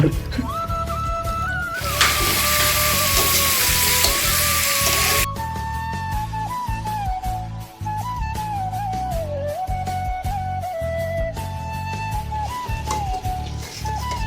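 Duck meat fries in a pan with a steady close sizzle and light crackle under a tune, louder and hissier for a few seconds early on, while a person talks.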